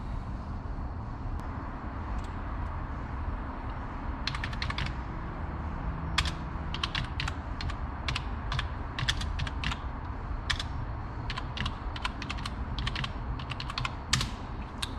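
Rapid, irregular clicks of fingers typing on a computer keyboard to run a search, close and fairly quiet, over a steady low background hum.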